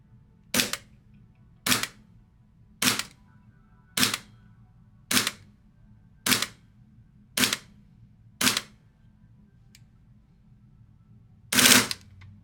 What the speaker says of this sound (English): After doing a couple round of shots into the chrono